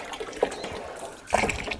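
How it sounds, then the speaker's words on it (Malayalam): Water runs from a pipe into a fish breeding tank, a soft trickle with two brief splashy gushes, close by and with no one talking. "ഇനി വെള്ളം നിറയ്ക്കാനായിട്ട് നമുക്ക് പൈപ്പ് ഇതിലേക്ക് ഇടാം"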